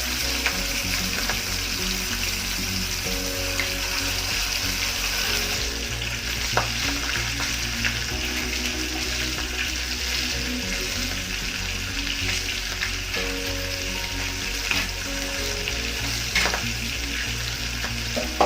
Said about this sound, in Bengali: যতক্ষণ ভাজা পুরোপুরি না হয় এপাশ ওপাশ করে উল্টে পাল্টে ভেজে নিতে হবে।